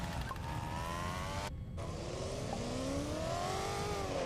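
A customized kart engine in the game LittleBigPlanet Karting gives a steady revving drone with rising and falling tonal harmonics, loud and continuous, briefly cutting out for a moment before resuming.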